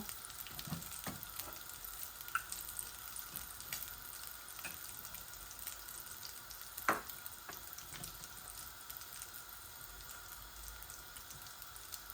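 Blended onion frying in hot oil gives off a soft, continuous sizzle. Occasional faint clinks and stirs break through, heard close in a home kitchen.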